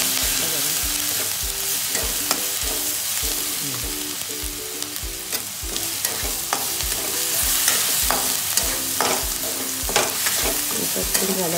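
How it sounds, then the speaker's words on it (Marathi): Ginger-garlic paste frying in hot oil in a wok, with a continuous sizzle broken by regular sharp scrapes and taps of a stirring spoon, close and steady with no talking. "कढईमध्ये तेल गरम करून घेतले, त्याच्यामध्ये मी अद्रक लसूणची पेस्ट"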